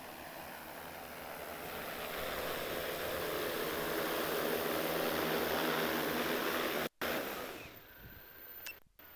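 X8 agriculture drone with two 22000 mAh batteries coming in to land, a broad steady roar of rotors and wind close to the mic that builds and then cuts off abruptly near the end.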